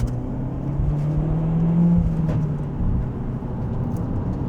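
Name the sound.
Peugeot 208 GTI engine accelerating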